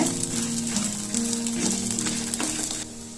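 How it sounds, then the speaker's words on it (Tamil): Whole spices frying in a pan for a village-style country chicken curry, a steady close sizzle with crackling and stirring throughout. "ஒரு 2 நிமிஷத்துக்கு வறுத்தா போதுங்க"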